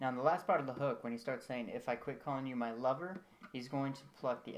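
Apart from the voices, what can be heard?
No everyday noises stand out.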